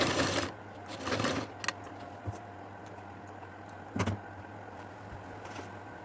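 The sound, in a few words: sewing machine stitching around a V-neck collar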